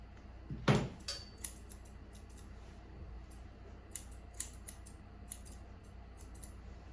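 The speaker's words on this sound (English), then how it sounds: "I can just pull it forward and just trim the ends off and then comb it back in." Scissors snip through a dog's fur during grooming, one loud close cut followed by a series of softer, scattered snips at irregular intervals in a quiet room.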